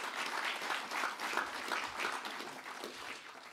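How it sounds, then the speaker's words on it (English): Audience applause at a library dedication in Empire, Stanislaus County: steady, dense clapping from a crowd, fairly even throughout and fading slightly at the end, with no talk over it. "Another round of applause for you."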